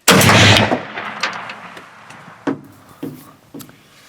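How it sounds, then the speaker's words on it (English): A single loud, close 12 gauge shotgun blast fired at a whitetail deer in a field, followed by a rolling echo and several fainter knocks and thumps. "I grab the 12 gauge, put her down."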